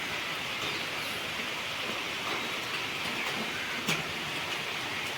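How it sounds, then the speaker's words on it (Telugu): Heavy rain pours down steadily outdoors, a continuous, even wash of hiss with no breaks and one brief sharper patter near the end. "వర్షం మా పక్క బాగా వర్షం అండి"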